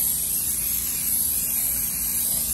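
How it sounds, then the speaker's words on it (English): Non-stick cooking spray hisses from an aerosol can into a slow cooker in one continuous, even burst, close and alone without talk. "And I'm going to spray this with a non-stick cooking spray, so nothing sticks on the bottom."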